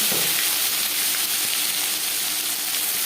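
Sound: cumin and bay leaves frying in hot mustard oil

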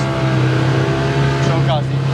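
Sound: hot-wired Yamaha engine running while riding

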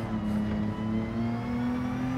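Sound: car engine shifting gears in Gran Turismo 7 video game

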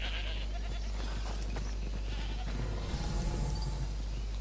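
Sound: goats bleating in Assassin's Creed Odyssey video game

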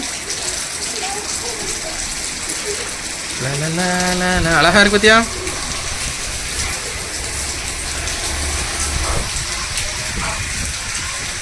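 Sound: rain falling during a storm in Tirunelveli

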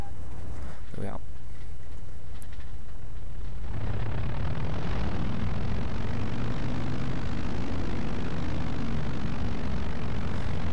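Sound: small plane's propeller engine in IL-2 Sturmovik 1946 video game

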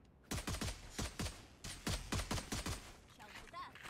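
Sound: gunfire in the video game Valorant Mobile

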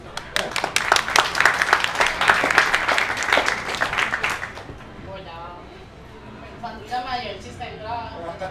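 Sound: audience applause

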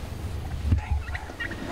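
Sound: wild turkey gobblers gobbling

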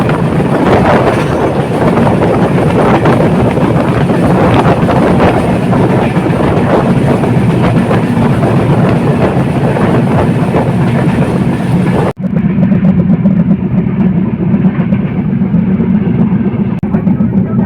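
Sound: Panchagarh Express passenger train running at high speed

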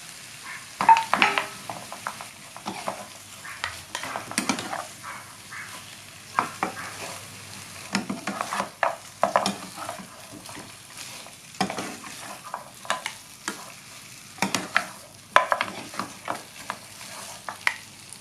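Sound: stir-frying pork with curry paste

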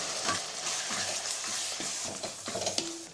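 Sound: sautéing masala in a pan

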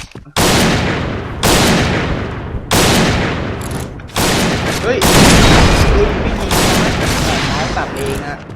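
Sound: Barrett M82A1 gunfire in video game Point Blank

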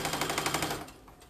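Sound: sewing machine stitching an apron hem

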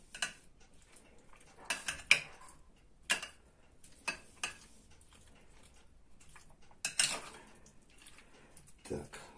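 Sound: mixing pipirrana tomato salad in a bowl

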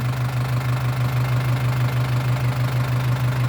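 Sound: Isuzu NKR 110 hp truck engine started and idling

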